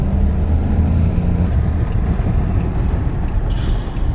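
A car's wheels spin without gaining speed during a hard launch, a steady loud engine drone and rumble running throughout with a low tonal whine early on.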